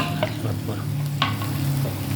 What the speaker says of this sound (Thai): ใส่กรอกหมูหอมใส่พริกแกง